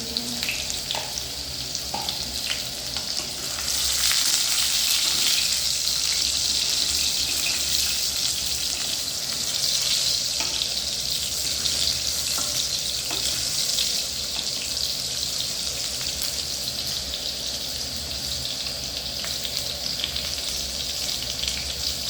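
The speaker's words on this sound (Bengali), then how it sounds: "তেল গরম হয়ে গেছে, এবার আমরা আলুটা দিয়ে দেবো। আস্তে, তাহলে একটু জল আছে ওই জন্য হালকা করে ছিটকাচ্ছে।" Potatoes sliding into hot oil and frying, a steady loud sizzle with light spluttering from a little leftover water, continuous with no talk, while cooking a Bengali chicken and potato curry.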